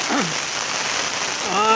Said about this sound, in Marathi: आपल्या सर्वांना दिसतोय इकडे पाऊस चौकूळ गावामध्ये पाऊस पूर्ण